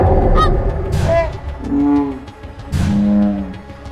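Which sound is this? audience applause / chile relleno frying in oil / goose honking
goose honking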